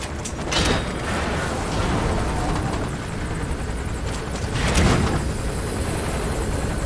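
Helicopter in the video game Metal Gear Solid V: The Phantom Pain, a loud, steady rotor roar filling the scene throughout, with a couple of louder swells and rushing gusts along the way.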